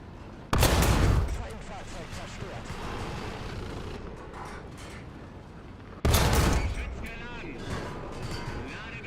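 Two heavy tank cannon shots in War Thunder, each a sudden loud boom with a long rumbling tail, several seconds apart, with someone talking between them.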